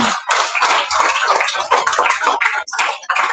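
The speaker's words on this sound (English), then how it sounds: "Give them a nice round of applause." Audience at a dharma gathering applauding sponsors: a dense, steady patter of many hands clapping, fairly close and loud, sustained without voices on top.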